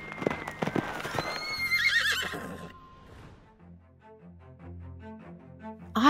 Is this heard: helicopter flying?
no